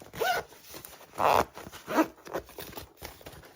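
A zipper on a square zippered carrying case is pulled in several short, close bursts, one longer rasping stroke standing out among the quicker tugs.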